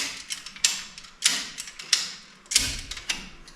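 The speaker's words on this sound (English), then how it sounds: "So what I'm going to do is jack it up just a little past the lock." A Nussbaum HEL7000 car lift is raised a little past its lock, giving a series of sharp metallic clicks and clacks about every half second, with a faint mechanical creak between them and no talking.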